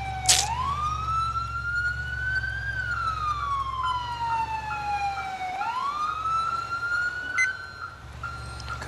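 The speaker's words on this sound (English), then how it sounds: "Cut my damn siren off." A police car siren in the LCPDFR video game wails in long, slow rising and falling sweeps over a low engine rumble, loud and close, with a brief sharp burst near the start.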